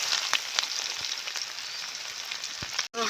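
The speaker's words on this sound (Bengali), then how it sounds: "রসুন ভাজা ভাজা হয়ে গেছে" Garlic and onion fry in hot oil with a constant close sizzle and scattered pops and crackles, briefly cutting out near the end.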